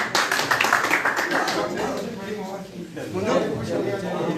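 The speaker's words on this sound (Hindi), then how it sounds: "ये माची तालियां बजाएं" Audience clapping to welcome new members at a party joining event in Jammu and Kashmir, dense scattered claps running throughout under a man's speech over a loudspeaker.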